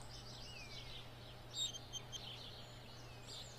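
Soft bird chirps and tweets sound in Stardew Valley, a few brief calls over a quiet, steady game background with a low hum, faint and without speech.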